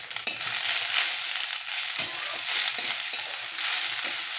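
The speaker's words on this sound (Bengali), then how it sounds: "এবার পাস্তাটা দিয়ে দিলাম, করে মিশিয়ে নিয়েছি" Pasta is stirred and fried in a pan, making a continuous close sizzle with occasional scraping stirs and small clatters, and no one speaks.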